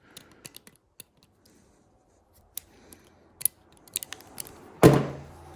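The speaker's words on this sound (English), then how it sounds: "So you'll cut the ring. Cut the ring off first." Expansion fitting ring being cut with a cutting tool during Milwaukee expansion tool plumbing work: sparse sharp snips and clicks, then a louder crunching cut near the end, close and without talk.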